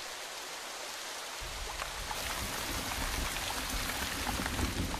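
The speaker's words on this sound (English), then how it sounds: "The monsoon has arrived." Monsoon rain in Vietnam sets in as a dense, steady hiss of falling water that swells after the first second and stays broad and continuous, with close drops pattering on surfaces.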